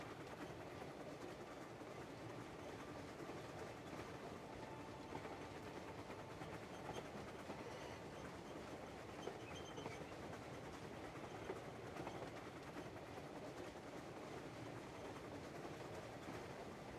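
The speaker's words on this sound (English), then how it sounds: "Just riding the train." Train ride in the video game Crimson Desert, a continuous rumbling rail noise with a steady clickety-clack, even and unbroken throughout.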